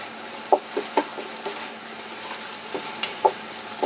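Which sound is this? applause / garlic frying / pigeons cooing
garlic frying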